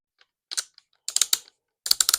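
A YHM Phantom QD mount is threaded onto a rifle muzzle, making several bursts of small, sharp ratcheting clicks in quick groups, close and crisp with no talking.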